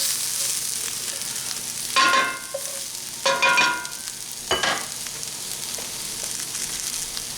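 Diced fresh corned beef frying in a pan for corned beef pasties, a soft constant sizzle broken by three short bursts of louder stirring and scraping.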